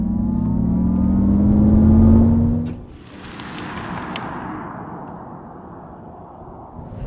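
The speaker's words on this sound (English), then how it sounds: "2024 Acura ZDX Type S with unofficial launch control." A 2024 Acura ZDX Type S electric SUV launches hard, a loud rising whine and road roar building for over two seconds, then dropping to a steadier, quieter rush of tire and wind noise as it cruises on.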